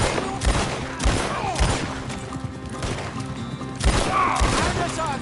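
Gunfire during a chase in Red Dead Redemption 2, several loud sharp shots in quick bursts with booming tails over a busy game soundscape, with shooting clustered near the start and again toward the end.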